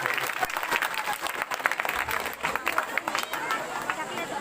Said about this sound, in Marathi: प्रत्येक गाण्यानंतर त्यांचं जोरात टाळ्या वाजवून अभिनंदन कौतुक करायचं